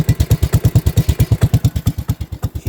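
A Commuter Industries TE 380 three-wheeler runs with a loud, straight-pipe-style exhaust, making a close, even chain of heavy thumping pulses that slow slightly near the end.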